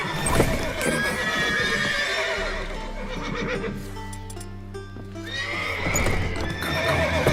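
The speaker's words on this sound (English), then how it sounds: "Gotta call all the horses before they make me guards." A horse in The Witcher 3 video game whinnies loudly and clip-clops, with a long neigh near the start, hooves and tonal game music in the middle, and another whinny near the end.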